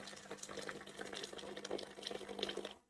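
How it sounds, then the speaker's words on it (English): A Gemilai espresso machine dispenses hot water, a soft, steady hiss and trickle with a low pump hum, faint and close, cutting off at the end. "And you can see it start to produce hot water."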